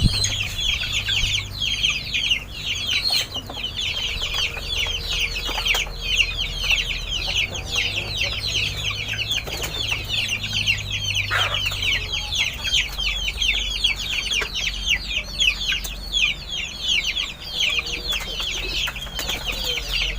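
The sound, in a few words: chickens clucking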